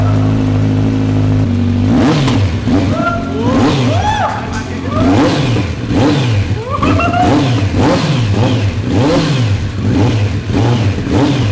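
A Kawasaki motorcycle fitted with an SC Project exhaust starts and revs, a loud rumbling idle that breaks into a series of sharp rising and falling throttle blips, close up, with talk mixed in.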